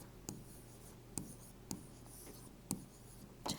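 Marker or chalk strokes on a classroom board during a lesson on the human digestive system: five separate quick scratchy taps and squeaks spaced irregularly, close and fairly quiet, no talking.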